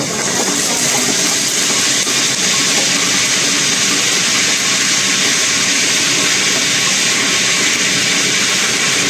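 Dry red chillies sizzle in hot oil in a pan for sambar, a steady loud hiss that continues without a break.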